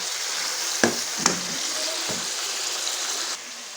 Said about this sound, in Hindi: चिकन को हम अच्छी तरह से भून लेंगे, इसका कच्चापन भी ख़त्म हो जाए।